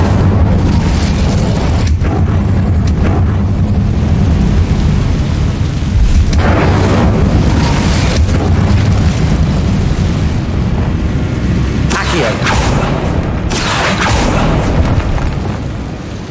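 Incendio fire spell blasts in Hogwarts Legacy mixed with booming combat: a continuous loud roar punctuated by several sharp bursts around two, six to eight and twelve seconds, with no voices.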